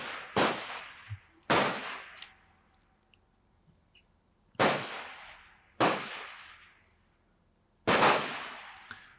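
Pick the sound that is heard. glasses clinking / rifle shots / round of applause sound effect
rifle shots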